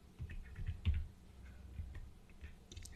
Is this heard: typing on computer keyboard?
yes